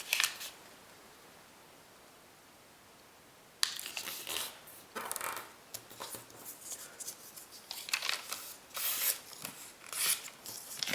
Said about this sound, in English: Now you take this corner and fold to the crease you just made.